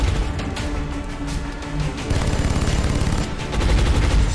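Suppressing gunfire in a video game, loud sustained automatic fire with a rapid rattling rhythm, close and continuous throughout with no talk.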